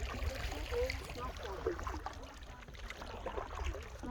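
A canoe paddled along a small creek on a Big Trout Lake loop in Algonquin Park, with soft water swishes and trickling against the hull, close and steady, while voices murmur over it.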